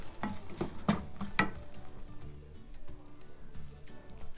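Semolina roasting in oil in a pan for sooji halwa, a quiet low sizzle with a few sharp spoon scrapes and taps near the start, close and steady.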